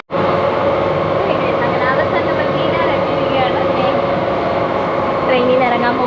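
A Mumbai local train rolls along with a loud, steady rumble and clatter from the moving carriage, heard from inside throughout, with people talking over the noise.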